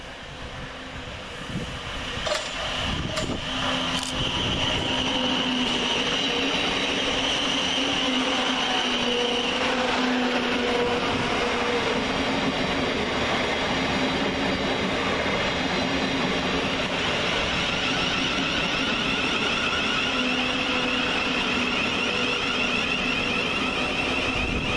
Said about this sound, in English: Next into the station is 700108, working the 10:53 Govia Thameslink service from Brighton to Cambridge via London